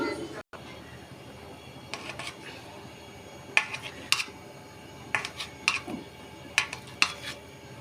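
Paneer is being sliced into pieces by hand with a knife, giving a series of sharp, brief taps and clicks against a board or plate at an irregular pace, fairly close over a quiet background.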